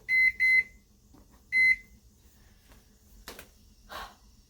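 Microwave oven timer being set: three sharp electronic beeps, two quick ones then a third after a short pause, followed by a couple of faint rustling knocks in a quiet kitchen while Swedish bread is baking.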